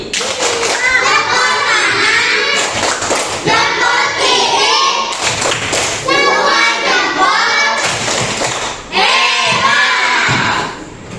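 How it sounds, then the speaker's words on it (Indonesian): A class of schoolchildren claps and cheers for a group that has just presented, with loud rhythmic bursts of clapping and excited young voices that rise and fall in waves. "Mari kita berikan apresiasi, tepuk apresiasi."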